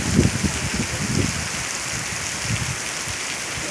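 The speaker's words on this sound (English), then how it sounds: "it's been so dry that now it's raining and it's amazing" Heavy rain pours steadily during a storm after a long dry spell, a dense continuous hiss with low pattering bursts, fairly close and alone without voices.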